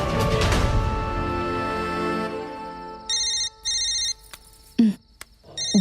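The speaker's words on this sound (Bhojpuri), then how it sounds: "भूमि के फोन।" A telephone rings with two short, bright electronic trills, then a few more broken ring tones follow amid quiet room noise, with no speech over them.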